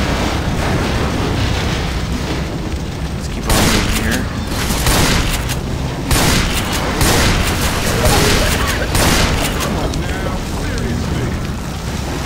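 Continuous shooting in the Left 4 Dead 2 video game, a dense rumbling stream of gunfire with heavier booming bursts recurring throughout, loud and close, with talk underneath.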